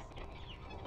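A hen clucks softly in the video game Amanda the Adventurer, a brief, faint cluck set against low background sound.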